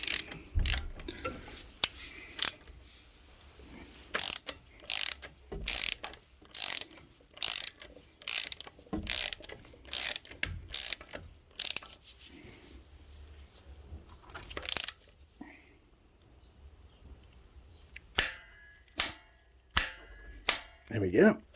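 A ratchet tightens gearbox bolts on a Polaris Ranger 570 during a refit. Sharp, loud clicking bursts repeat in a steady rhythm, with quieter gaps between strokes, then pause briefly before a few final clicks.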